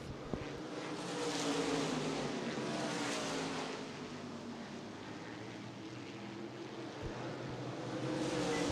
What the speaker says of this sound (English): Good, clean racing, smooth, and Breedlove stays on the point in 5th.